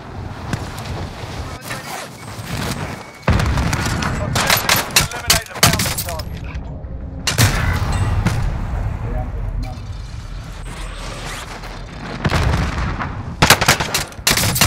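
Bursts of automatic gunfire and single shots in the video game Warzone on Rebirth Island, loud and close, coming in clusters with gaps, while players talk over the fighting.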